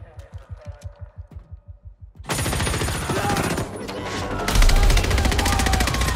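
Rapid bursts of automatic gunfire from the Battlefield 6 official trailer crackle over a dense, loud backdrop of explosions and rumble, intensifying toward the end after a quieter rhythmic opening.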